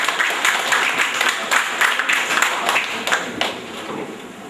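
A seminar audience claps together, producing a loud, sustained wash of many hands with some sharper individual claps standing out. The clapping is close and continuous, gradually thinning slightly toward the end.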